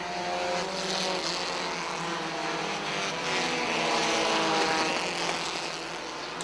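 Race cars at Airborne Speedway in Plattsburgh, NY, a dense roaring pack of engines surging together after a restart on the green flag, loud and continuous with a rising and swelling drone.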